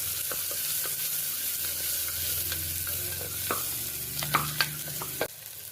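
One chopped onion and two green chillies sautéing in a pan for a quick biryani, a steady close sizzle with scattered stirring clicks that grow sharper near the end before cutting off.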